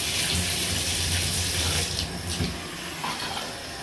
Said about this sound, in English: Let's turn on the bath.